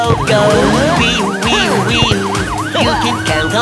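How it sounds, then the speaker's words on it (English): Cartoon police car siren in a children's song, a loud continuous wailing up-and-down tone cycling rapidly over a busy musical backing. "Wee-wee-wee-oo. I'm a police car."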